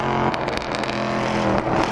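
A loud Mercedes safety car leads a rolling start lap at Daytona Raceway, a steady close engine drone with harsh broadband roar and brief throttle surges, heard alone.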